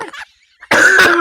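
A man coughs suddenly in a loud, close burst of several harsh coughs, following a brief quieter sound and a short pause.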